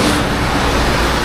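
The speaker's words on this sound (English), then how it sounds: "For an electric bus, that was very loud." A loud electric bus passes close by on a street in Jeju, its steady broadband road roar filling the moment without pause or voices.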